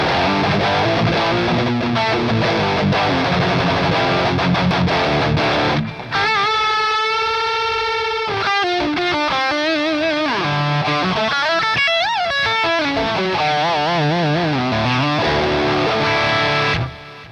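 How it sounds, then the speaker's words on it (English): Enya Nova Inspire carbon-fiber guitar played loud through its built-in delay and distortion, dense driven chords giving way to sustained bending lead notes with echoing repeats, continuous and up front. "We've got delay, we've got distortion."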